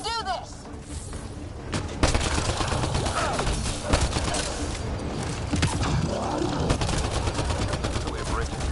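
Dense video-game gunfire, rapid bursts and shots piling up in a continuous fusillade with thuds and crashes for the whole stretch, voices partly buried beneath the battle noise.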